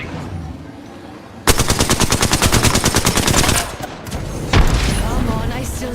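Rapid automatic gunfire in a video game, a loud sustained burst of closely spaced shots for about two seconds, a brief pause, then more shots with a heavy impact.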